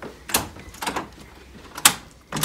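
Door handle tried on a locked door, a few sharp rattling clicks and clunks of the latch, close by and spaced irregularly with quiet gaps between.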